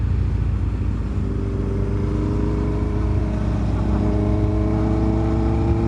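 Honda CB motorcycle engine holds a steady, throbbing idle-to-rev drone up close, with harmonic engine tones rising slightly toward the end and no clear talk.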